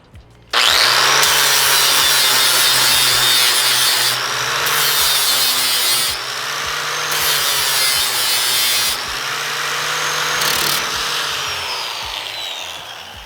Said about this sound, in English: We will smooth it out with the flap wheel.